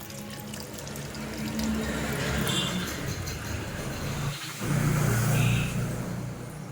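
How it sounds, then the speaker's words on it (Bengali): Washing machine running an eco clean cycle while water pours into a bucket, a steady broadband rush of running water with a low hum that swells louder partway through. "ওয়াশিং মেশিন ইকো ক্লিন করছি এখন হচ্ছে বাইরে বালতিটা ভরে গেছে"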